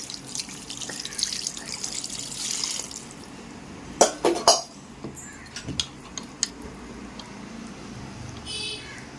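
Water poured into a pot of curry makes a steady splashing pour, followed by a few clinks of metal utensils and drips, fairly close and moderately loud.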